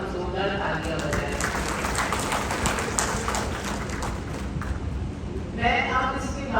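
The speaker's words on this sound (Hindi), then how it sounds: "मैं चाहूंगी एक बार हम जोरदार तालियां बजाएं" An audience claps in a steady round of applause at a road-safety event, lasting several seconds at moderate volume, with a voice speaking at the start and again near the end.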